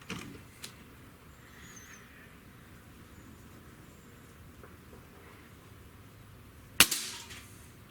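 A breakbarrel air rifle fires a pellet, a single sharp crack near the end that fades in a short ring-out, preceded by a quiet stretch with faint clicks.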